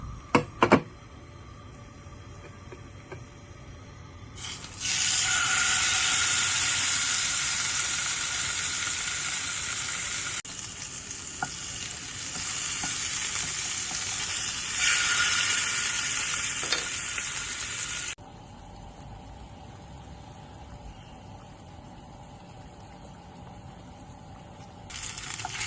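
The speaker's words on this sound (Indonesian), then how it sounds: "Pertama-tama kita goreng ikannya dulu ya." Salmon fish frying in a pan gives a steady, loud sizzle that rises and eases over time, with a few clinks and stirring sounds and no talk.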